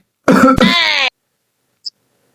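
A patient in a comedic doctor sketch gives one loud, close, drawn-out cough that sounds like heavy throat clearing, with a short break partway through. Silence follows, with one faint tick near the end.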